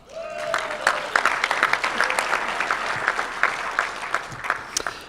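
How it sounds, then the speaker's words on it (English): Audience applause at a Rotary Club of Tucson meeting, sustained, dense clapping with sharp individual claps throughout, fairly loud and close, with no talk over it. "yes, let's clap"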